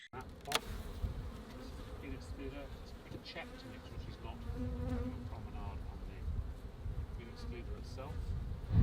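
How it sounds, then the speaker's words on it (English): Honeybees buzz around frames pulled from a hive, a close, steady droning hum with individual bees flying past, while a voice talks over it. "there's another worker bee clearing it out"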